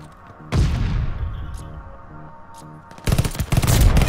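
Close, loud gunfire in the video game Call of Duty Vanguard: a heavy burst, a sustained spell of firing with distant rattling shots, then a dense, rapid volley of automatic fire.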